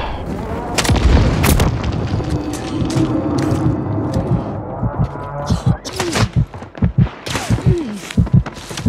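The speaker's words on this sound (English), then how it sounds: "Enemy precision airstrike." A Call of Duty Warzone precision airstrike from the enemy side brings heavy booming blasts and gunfire, with players talking over the loud, chaotic barrage.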